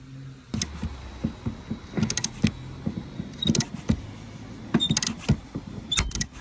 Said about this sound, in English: So I'm going to go ahead and tighten and you'll see it eventually pop out.